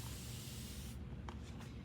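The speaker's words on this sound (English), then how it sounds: "Spray them" A spray bottle of cleaner mists over outdoor furniture being prepped for a refresh, a steady close hiss that stops partway, followed by a few short squirts.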